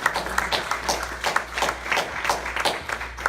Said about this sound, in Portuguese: Quem pode dar um aplauso ao Senhor?